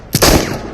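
A single hollow-point gunshot fired in the video game Into the Radius: one sharp, loud close-range report with a short decaying tail, no voices.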